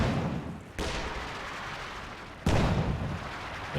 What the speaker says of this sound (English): He is barraging away at the centre, putting some damage onto that bunker now.